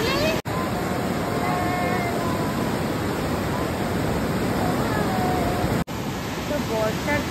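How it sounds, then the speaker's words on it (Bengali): The Subarnarekha river, swollen after heavy monsoon rain, rushes past in a loud, unbroken roar of fast water that stays close and dense, with two brief cut-outs and no clear talk. "নদী একদম প্রবল রূপ ধারণ করেছে, প্রচণ্ড জোরে জল যাচ্ছে"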